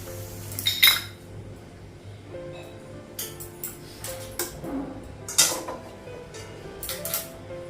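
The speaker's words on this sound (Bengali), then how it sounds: "কড়াইটা ধুয়ে নেবো," A metal cooking wok (kadai) being washed in a kitchen, with intermittent clanks and scrapes of the pan against other utensils and cutlery, sharp bursts scattered over a quiet background, no talking.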